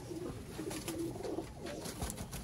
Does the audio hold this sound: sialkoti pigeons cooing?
yes